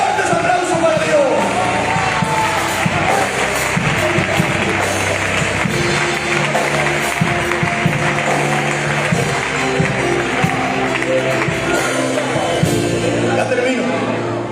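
A church congregation in Logroño applauding loudly, a dense continuous wash of clapping and crowd noise lasting throughout, with voices mingled in the din.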